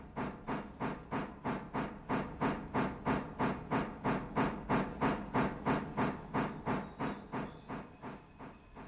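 A B17 10-wheeler steam locomotive in the Railroader game chuffs in a steady, even rhythm of strong exhaust beats, with a hiss of steam rising near the end.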